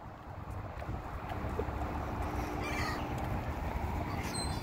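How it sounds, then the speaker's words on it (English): A crow cawing while being fed outdoors, faint and distant over steady wind and a broad noisy background, with a few brief calls standing out near the middle and end. "What's the bird say?"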